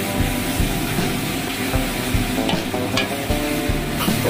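Onion, capsicum and ginger garlic paste sauté over high flame in a pan for chilli chicken gravy, giving a steady close sizzle with light stirring scrapes throughout.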